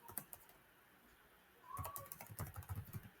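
Keys tap on a computer keyboard as code is written, a few scattered clicks early on, then a quick, irregular burst of close, quiet typing in the last half.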